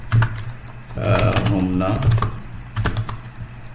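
Someone types an address on a computer keyboard in a burst of close, fast clicks that start and stop, while a person talks over part of it.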